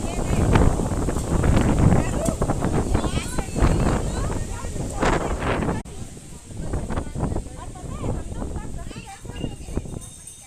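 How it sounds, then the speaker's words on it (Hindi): Strong wind blusters across a mountain path on the pilgrimage route to Bhairav Baba temple near Vaishno Devi, a continuous roar buffeting the microphone while people talk over it throughout. "बहुत तेज हवा है भाई"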